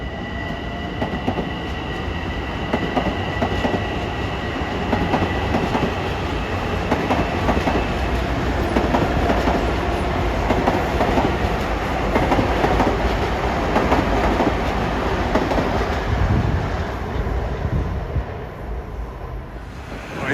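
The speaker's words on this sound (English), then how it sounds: "There goes 1462 to Great Neck." An LIRR commuter train bound for Great Neck rolls past Woodside station in a loud, steady roar of wheels and rail clatter that holds for about twenty seconds before easing slightly, with no voices.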